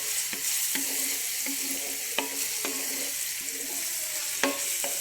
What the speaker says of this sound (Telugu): ఆనియన్ బాగా వేగాలండి.